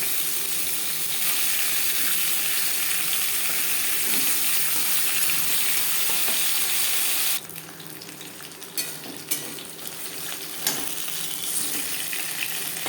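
Fish fries lightly in refined oil for a fish curry, first as a loud, continuous hiss. Partway through it drops to a softer sizzle with scattered crackles and spits.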